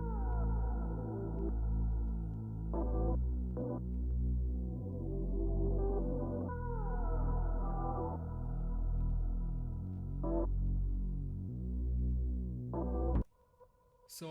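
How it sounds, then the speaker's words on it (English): A hip-hop beat with chopped sample stabs layered over a deep, sustained synth bass line, looping steadily and loud with no talking. "So along with the bass, if we play the sample chops, it sounds like this."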